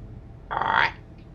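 A single toad croak from a wild outdoor setting, a short raspy burst of moderate loudness over a low steady background hum, with no voices.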